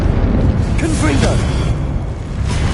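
A fiery Confringo spell blast in the Hogwarts Legacy video game on PS5: a sustained loud rushing burst with crackling whooshes and swirling tones, over a steady rumble of game noise.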